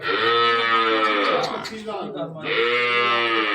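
A water buffalo at a livestock sale gives long, loud, drawn-out moos, two calls separated by a brief pause with nearby outdoor noise between them.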